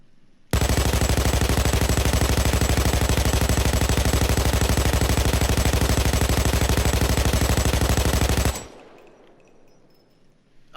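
Sustained automatic fire from an RPK light machine gun in Payday 2, a loud, dense, unbroken burst running for about eight seconds before cutting off abruptly into quiet.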